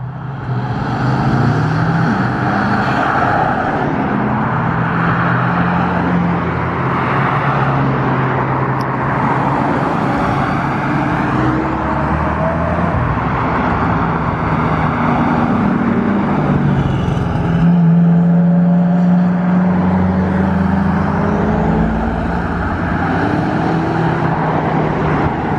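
Hypercars, including a yellow Pagani Huayra Roadster, driving flat out on an airport runway, with a continuous loud engine roar that rises and falls as cars pass close by, heavy and sustained throughout.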